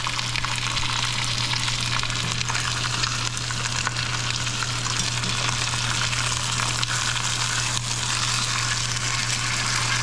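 Chicken browning in a pan on a stovetop, a steady close sizzle and frying hiss running unbroken throughout with a low constant hum beneath.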